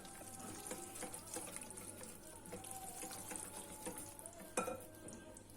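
A spoon stirs flour into soft poğaça dough in a bowl, giving a steady scraping and rustling with an occasional knock against the bowl, close and fairly quiet. There is no talk.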